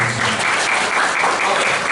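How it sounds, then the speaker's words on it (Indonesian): A church congregation applauds during a Christian sermon, giving a short, loud, continuous round of clapping that holds steady throughout and has no speech over it. "Kasih tepuk tangan buat Tuhan."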